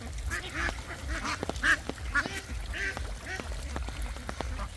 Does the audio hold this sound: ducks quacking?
yes